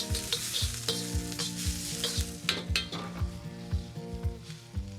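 Garlic fries in a pan for a wagyu beef and black pepper dumpling noodle dish, with a constant close sizzle and rhythmic stirring scrapes and taps against the pan.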